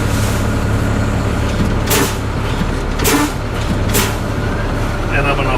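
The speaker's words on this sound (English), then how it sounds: "I'm actually going to fan the brake down until 90 psi" Truck air brakes are pumped down toward 90 psi during a pre-trip check, producing loud, close bursts of hissing air release over a continuous engine rumble, several sharp hisses spaced about a second apart.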